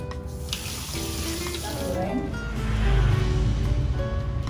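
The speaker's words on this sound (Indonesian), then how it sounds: "Kita goreng bumbunya terlebih dahulu ya," Spice paste sizzling and frying in a pan for Pekalongan-style soto tauco, a steady close hiss that swells louder midway, with faint stirring and no talk over it.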